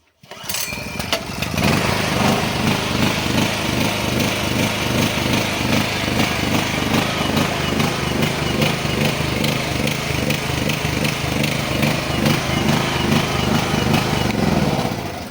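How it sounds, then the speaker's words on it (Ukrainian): A petrol generator engine runs close by, loud and steady in level but with an uneven, sputtering rhythm throughout, no talk. "Чуєте, да? він працює нестабільно."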